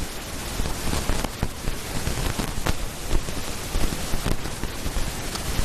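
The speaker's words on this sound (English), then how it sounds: "And the rain will come in hard on the windows here," Heavy rain pelts steadily against windows at Ford Park during an under-14 girls' football match, a dense, loud, continuous patter with sharp individual drop hits throughout.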